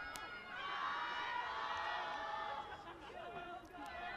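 A crowd at a college softball game at the Catamount Softball Complex keeps up a soft, steady murmur of chatter and distant cheering, faint and far off, with no voice standing out.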